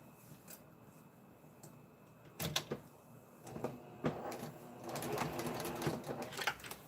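Sewing machine stitching the inside lining of a face mask, a steady mechanical whir with bursts of rapid needle clatter that build louder toward the end, with occasional handling knocks and no talk.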